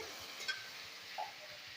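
Diced potatoes with turmeric fry in oil in a pan, giving a soft, even sizzle with a couple of faint clicks, quiet and continuous.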